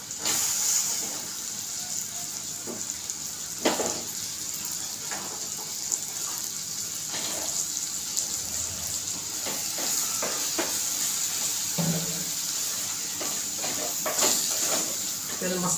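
Soybean chunks added to hot masala in a pressure cooker give a steady hiss and sizzle with scattered clinks and stirring knocks, while someone talks over it.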